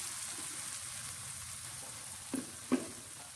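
Blended spice paste frying in hot oil in a wok, a quiet, steady sizzle with a couple of brief stirring scrapes near the end.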